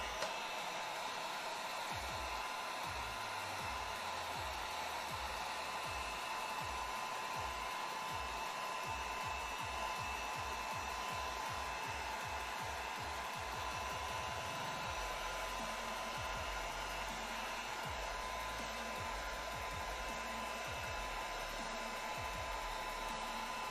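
A heat gun runs continuously for over twenty seconds while heat-treating cosplay armour, a steady close whooshing whir with a low, pulsing sputter that rises and falls in the middle stretch.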